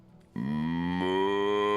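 A single long, low cow moo from the video game Divinity: Original Sin swells up and holds steady, clear and close, with a slight shift in tone partway through.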